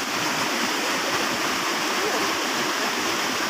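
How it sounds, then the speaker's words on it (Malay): Strong floodwater surges through a breached embankment in Aceh Tamiang, where the break is about 1 meter deep and 3 meters wide. A steady, dense roar of rushing water fills the whole stretch, loud and unbroken. "Kalau begini kencang air, kemungkinan bertambah jadi besar lagi nih."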